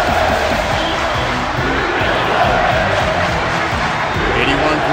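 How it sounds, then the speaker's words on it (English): A wrestling crowd at a Christmas-themed event cheers and chants steadily for a new champion, a dense, continuous roar of many voices filling the arena throughout. "Crowd here reacting, saying you deserve it."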